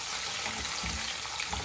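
Chicken curry masala frying in a pan with ginger being added, giving a steady close hiss of sizzling oil that runs unbroken and evenly loud from start to end.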